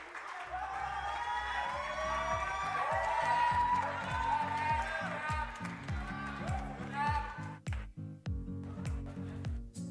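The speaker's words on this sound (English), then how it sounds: "Please give a warm round of applause as the debaters also step off the stage." Audience applause and cheering at a tertiary institution debating challenge as the debaters step off the stage, clapping under an announcer's amplified voice and festive music with a steady beat.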